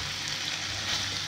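Pork ribs fry in fish sauce in a pan, giving a steady, close hiss of sizzling oil with faint crackles throughout and no voices.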